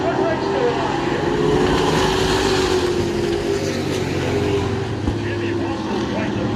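Race cars roar past on the back straightaway of an oval track, a dense, continuous engine drone echoing off the wall at steady loudness, with a commentator talking over it.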